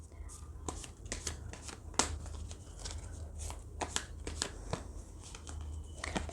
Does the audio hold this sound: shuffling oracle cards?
yes